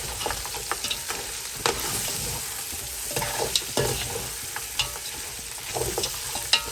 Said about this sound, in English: And this has been frying off for a while now. So I'll give it a stir.